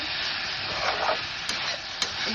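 Spinach curry with lentil dumplings and slit green chillies being stirred as it fries in a pan, giving a steady close sizzle with soft scraping and two small sharp clicks near the end.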